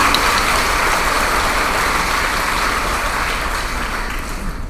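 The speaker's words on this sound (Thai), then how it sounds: "ขอเสียงปรบมือเป็นกำลังใจให้ท่านนายกรัฐมนตรีอีกครั้งค่ะ" An audience applauds the Thai prime minister at a political gathering, a dense, steady wash of clapping that holds at a loud level for the whole stretch and tapers slightly toward the end, with no voices over it.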